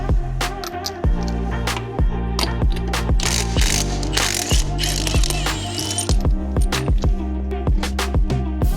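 A ratchet cranks rapidly and loudly in steady clicking bursts while a wheel is removed from a Jeep Gladiator, running almost continuously with brief pauses.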